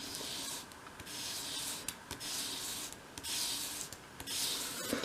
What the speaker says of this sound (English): with your sandpaper flat on your work surface, hold the piece at a 45-degree angle and sweep it towards you